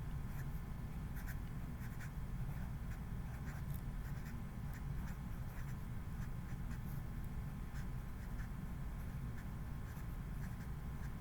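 Pen scratching steadily across paper while drawing a slope triangle for a best-fit line, a continuous close writing sound over low background hum, with no talking.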